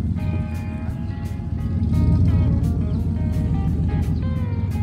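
A Cobra-style Mustang car being towed back into position by a running vehicle, its engine droning steadily and loudly throughout with a rough, pulsing idle.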